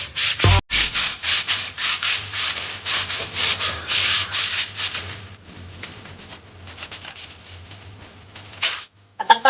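Someone scrubs a heavy household item by hand during Diwali home cleaning: loud, close, rhythmic rubbing strokes repeat steadily, then ease into softer, sparser scrubbing before a brief pause.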